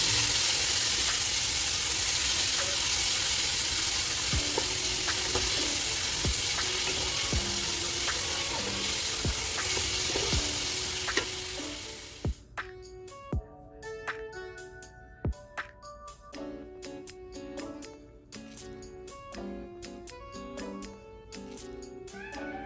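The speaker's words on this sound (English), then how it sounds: "I'm gonna just add my seasoning to make it a little soft so it can" Loud sizzling of seasoning in extra virgin olive oil in a pot for the first half, then the hiss cuts out, leaving quieter clinks and handling sounds.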